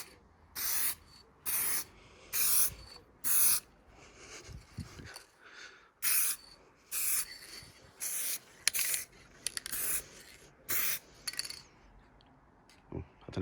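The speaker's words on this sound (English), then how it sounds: "I want to try and give it about 4 coats of this real light coat." Short bursts of aerosol spray paint hiss in a regular series of light passes over a 1998 Suzuki GSX-R 600 rear view mirror, loud and close, separated by quiet pauses, faint handling clicks and some low talk.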